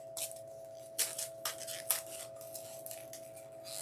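Scissors snip through felt in a quiet room, making a series of short, crisp cuts in an uneven rhythm, close to the listener, with a steady faint electrical hum beneath and no talking.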